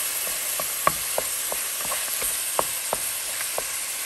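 Meat for lasagna stirred as it fries in a pan: a steady bright sizzle with scattered scraping clicks of the utensil against the pan, close and moderately loud, no talk.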